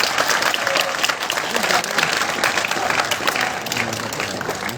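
An audience at a sports psychology session in Indore breaks into loud, sustained applause for the speaker, a dense continuous clapping that fills the room, with crowd voices mixed in.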